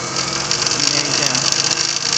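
A Dressmaker zig-zag sewing machine runs with a steady, fairly loud mechanical whir and buzz, with a voice talking over it.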